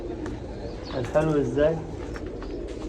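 Pigeons cooing at a large pigeon farm, a couple of soft, rolling coos rising out of a noisy barn background while someone talks over them.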